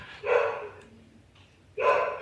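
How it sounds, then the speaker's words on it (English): A dog barks twice, a short gruff bark and then another after a pause of about a second and a half, fairly close and clear over a quiet room. "We'll wait for a bark for a second."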